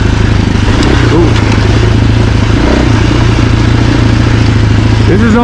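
A stock 2024 Husqvarna FE450 dirt bike engine drones loudly and steadily while being ridden, a constant close mechanical roar with clattering over it and a rider's voice under the noise.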